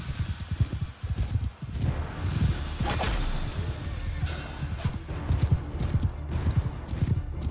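Horse galloping in the video game Mount and Blade Bannerlord, a steady run of hoofbeats with swishing battle noises mixed in, loud and close throughout.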